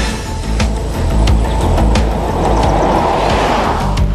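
A 2000 Lincoln LS V6 with a Getrag 5-speed manual gearbox drives along, its engine and road noise forming a loud, steady interior rumble that rises slightly midway, with no voices.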